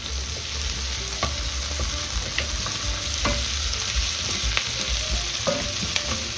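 Vegetables frying in a pan, a continuous close sizzle with occasional utensil taps and stirring clicks, no voices.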